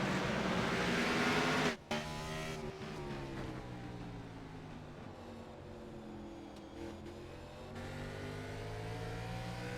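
A race car engine in a Martinsville Speedway sim-racing game revs loudly and steadily, holding a high droning pitch with a brief dip near two seconds, heard alone.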